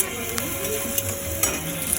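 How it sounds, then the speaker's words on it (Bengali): Potatoes fry in a pan with spices, a close, steady sizzle with occasional sharp scrapes and clinks of a spatula against the metal as they are stirred. "তারপরে আলুটা দিয়ে দেবো একটু ভাজা ভাজা হোক"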